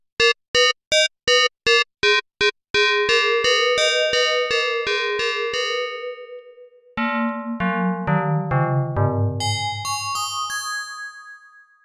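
A simple FM bell template plays on a Waldorf Quantum 8 synthesizer: bright, chiming bell tones are struck in a quick rhythmic run, then sustained notes glide and ring out in layered, metallic harmonics across several pitches.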